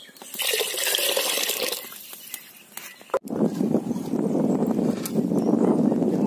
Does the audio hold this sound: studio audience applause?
no